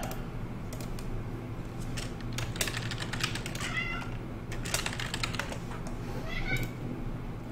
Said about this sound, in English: Listen to that little sad meows.